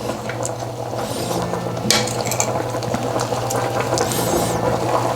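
Tofu and pork bubble in a pot of water, a loud, steady boil with busy popping and gurgling close by and no talk.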